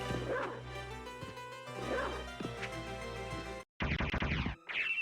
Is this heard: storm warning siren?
no